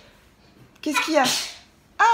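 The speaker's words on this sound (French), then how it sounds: "tu éternues." A young child sneezes once in a home during an evening routine, a short burst that follows a brief adult question, and a voice starts speaking right after.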